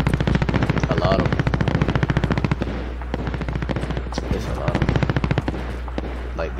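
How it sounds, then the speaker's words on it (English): Sustained automatic gunfire from a Call of Duty Warzone match, a steady fast rattle of shots with brief gaps, loud throughout, with a voice speaking over it at times. "Gunshots on me."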